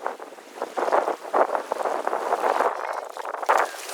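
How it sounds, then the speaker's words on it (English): Strong wind gusting over a paddler on the Green River in Labyrinth Canyon, loud buffeting rushes rising and falling against the microphone with a watery wash beneath, no voices. "Even though the current's strong, the wind is stronger sometimes."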